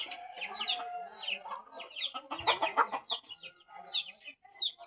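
A male jungle fowl (labuyo) clucks and chirps close by in a continuous run of short, rapid calls, with a louder burst of clucking near the middle.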